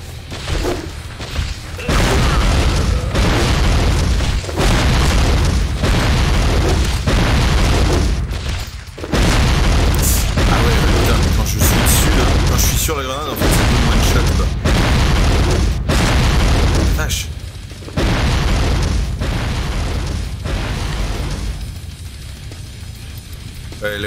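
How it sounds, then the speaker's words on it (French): Grenades go off in rapid succession in Fallout: Brotherhood of Steel, loud booming blasts packed closely together with only brief gaps throughout. "Les grenades, j'avoue, sont un peu fortes."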